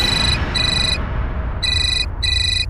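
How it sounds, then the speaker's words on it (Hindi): A mobile phone rings with a repeating electronic ringtone, short bright tonal bursts separated by brief gaps, over a low background rumble. "तुम्हारा फोन बज रहा है।"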